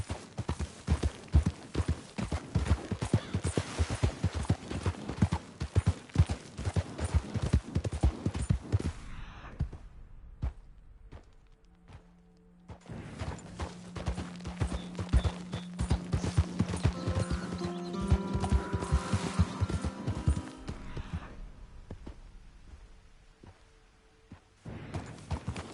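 A horse gallops in the video game Red Dead Redemption 2, its hooves pounding in a fast, loud, close rhythm that fades briefly, then returns amid rising game music and ambient effects.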